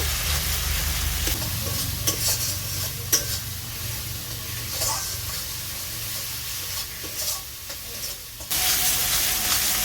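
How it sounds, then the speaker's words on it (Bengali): Chili-powder spice paste frying for a fish curry with potato and eggplant, a loud continuous sizzle with repeated stirring scrapes, and a low steady hum underneath throughout. "মশলাটা কিছুক্ষণ কষিয়ে নেব"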